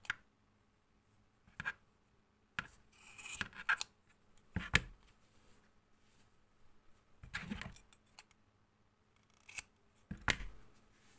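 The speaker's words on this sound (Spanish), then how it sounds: "Y ahora ya podemos cortar aquí los extremos" Scissors snip through the yarn ends of a handwoven Wayuu bag, making a series of sharp, close clicks and crunchy cuts spaced irregularly across quiet pauses.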